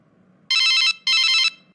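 Telephone ringing in two loud, bright electronic bursts with a short gap between them, clear over a quiet background.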